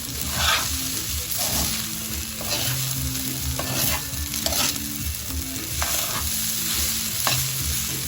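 Rice stir-fried in chicken oil sizzles loudly in a hot pan, with repeated scraping and tossing strokes of a spatula cutting through the constant frying hiss.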